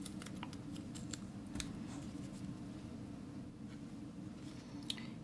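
Scissors snip through paper while a small figure is cut out from paper scraps for a Christmas card, giving quiet, irregular crisp cuts over a steady low hum.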